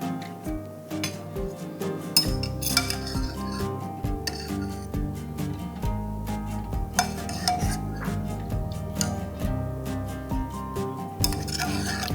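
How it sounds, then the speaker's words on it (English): A ladle dips into a pot and homemade ricotta is spooned into a cloth-lined strainer, with repeated metal clinks and scrapes over a low bubbling hum, close and moderately loud. "Now we'll ladle the ricotta into our lined strainer."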